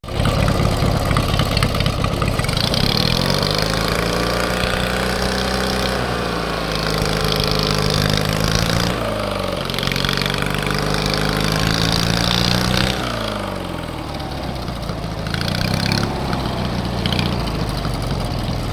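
A loud, close engine drives an MTD racing lawn tractor, running continuously with its pitch rising and falling as the revs change and easing off near the end under engine braking.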